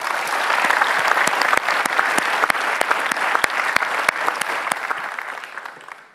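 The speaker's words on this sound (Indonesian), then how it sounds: "Kita kasih tepuk tangan Mbak Alisa Wahid" Loud studio audience applause at an Indonesian television talk show, dense continuous clapping with sharp individual claps standing out, sustained for several seconds before tapering off.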